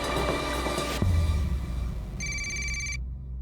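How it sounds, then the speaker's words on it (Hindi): An electronic phone ringtone chimes in repeated bursts, moderately loud indoors, then cuts off abruptly near the end. "घंटी की आवाज आ रही है अंदर से।"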